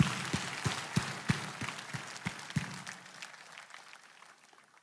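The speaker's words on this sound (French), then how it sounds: "Applaudissez pour vous-même." A church congregation at a prayer service claps, with several distinct sharp claps standing out over scattered clapping that fades away over a few seconds.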